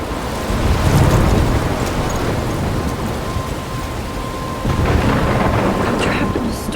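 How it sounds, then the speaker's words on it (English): A video game thunderstorm roars as a dense, steady rain wash with low rolling thunder that swells at the start and again toward the end, loud and close, with no talk. "I'm trapped in a storm."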